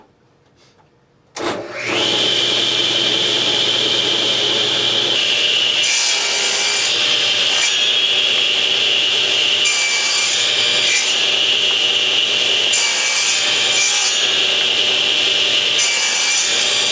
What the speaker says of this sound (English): we got to make a first 45-degree cut there.